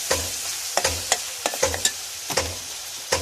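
Cumin and other spices frying in a pan for a home-style fish curry, a steady close sizzle broken by repeated sharp spoon stirs and scrapes at an irregular rhythm.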